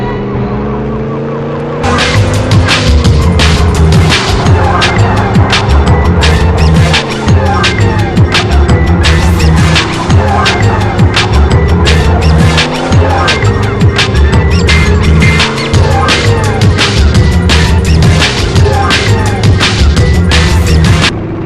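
Racing in the video game 007 Racing, a car engine drones and whines with repeated tire squeals and skids and a wailing siren-like tone over it, loud and continuous.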